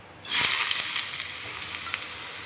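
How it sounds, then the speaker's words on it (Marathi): Chopped onion drops into hot oil in a pan for a peanut aamti, bursting into a bright, steady sizzle that stays close and fairly loud, with faint stirring clicks and no voices. "चिरलेला कांदा आहे तो टाकणार आहे"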